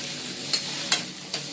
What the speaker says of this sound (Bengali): এখন পাস্তা বানানো হচ্ছে।